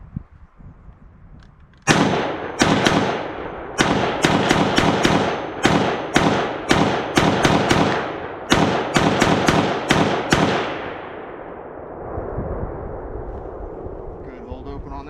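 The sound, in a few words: Springfield Hellion bullpup rifle firing at the range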